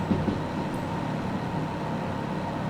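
A train in Derail Valley rolls along the rails, hauling a hazmat load, with a steady low rumble and drone and faint clacks near the start, continuous and close with no talk.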